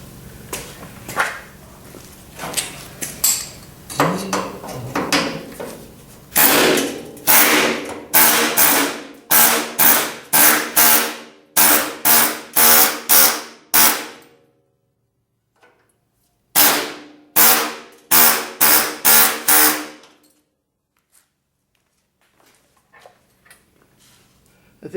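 Hammer and chisel knocking a spot-welded bead off the floor pan of a 1973 Karmann Ghia: loud, sharp metallic strikes in rapid bursts, close up, with a clear pause midway before another burst and then quiet.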